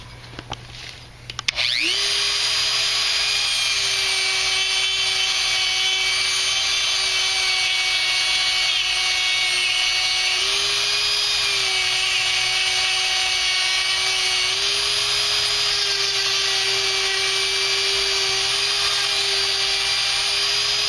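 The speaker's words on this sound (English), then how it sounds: "So with a grinder and a sanding stone or grinding stone, we're going to take this down." An angle grinder fitted with a grinding stone runs loud and steady on a Jeep Wrangler axle channel during a G6 build, a high continuous whine starting after a brief click, with slight pitch dips as it bites into the metal.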